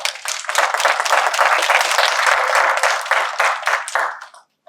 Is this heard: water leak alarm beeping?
no